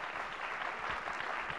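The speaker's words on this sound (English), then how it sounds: "Yeah, let's clap" Brief, quiet round of applause from an alumni gathering audience, a soft continuous patter of clapping heard from a distance.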